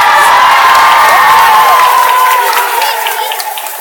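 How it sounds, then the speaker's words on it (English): A large arena crowd at Madison Square Garden applauds and cheers loudly, the clapping and whoops gradually thinning out toward the end. "How about a round of applause for Kenny?"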